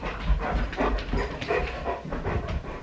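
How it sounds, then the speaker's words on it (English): An excited dog pants hard with rapid rhythmic breaths and occasional whimpers, close by, over a low rumbling background, with no talk. "This dog is crazy."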